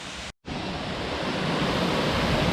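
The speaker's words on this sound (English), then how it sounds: "We're right in the middle of the creek here in front of the falls." Dog Slaughter Falls roars as a loud, dense wash of falling water heard from the middle of the creek right in front of the falls, steady apart from one brief dropout near the start.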